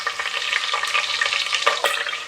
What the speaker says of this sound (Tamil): நம்ம ஆட் பண்ண பச்சை மிளகாய் ஆயில் நல்லா பொரிஞ்சு வர அளவு வதக்கிக்கணும்.